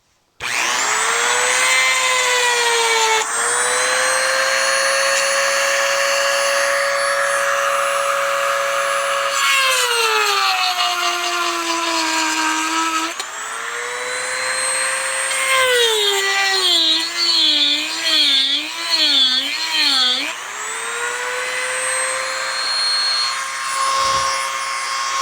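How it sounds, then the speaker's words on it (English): A Dremel rotary tool, fitted with a chainsaw-sharpening bit, grinds metal on a 1986 90hp Mercury outboard. It gives a loud, continuous high whine that shifts pitch as the load changes and warbles mid-way before easing off. No one speaks. "Let's see if I can get my Dremel in there and grind it out a little bit and weaken it"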